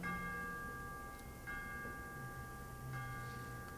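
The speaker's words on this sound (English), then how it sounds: "Hark! The Bow Bells. How good to hear them again." Church bells of Bow Bells ring in a steady, resonant peal, with sustained overlapping tones and a few fresh strikes standing out over a faint low background.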